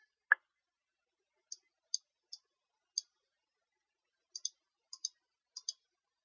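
Computer mouse clicks while working in software, a single sharper click followed by about a dozen light, quiet clicks in irregular singles and pairs, alone in near silence.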